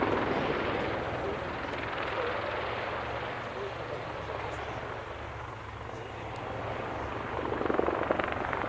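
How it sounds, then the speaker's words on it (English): A Royal Navy Black Cats display helicopter hovers at an autumn air show at Duxford, a steady broad rotor and engine roar filling the scene at moderate distance, swelling slightly near the end. "The aircraft are now positioning themselves for some precise hover manoeuvres."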